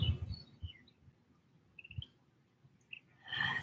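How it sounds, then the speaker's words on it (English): Birds chirp outdoors in a few short, faint, scattered calls from some distance, over quiet low rustling and soft thumps. "Listen to the sounds of the birds."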